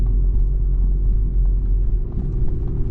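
A 90 hp VW Polo 1.2 TSI with a DSG gearbox pulls away from a stop, heard from inside as a loud, steady low engine rumble that eases slightly near the end.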